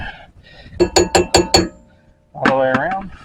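Four quick, evenly spaced metallic hammer strikes seat a grease cap onto a drum brake hub, sharp and close, followed by a short rising squeak or scrape.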